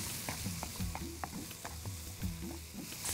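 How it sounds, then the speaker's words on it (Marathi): Green chutney mixture stirred in a pan over high flame, steady sizzling frying with repeated scraping strokes of a spoon, close and continuous with no talking. "छान असं मिक्स करूया आपण."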